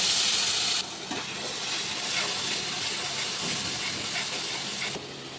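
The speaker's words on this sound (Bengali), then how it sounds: "এবার ওই তেলের মধ্যে রসুন আর পেঁয়াজটা ভেজে নেব।" Garlic and onion fry in hot oil, a steady broadband sizzle that runs throughout with a louder burst at the start as they hit the pan.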